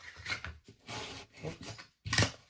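Scissors or a blade cutting through a cardboard shipping box, four close rasping strokes with short pauses between them, the last one loudest.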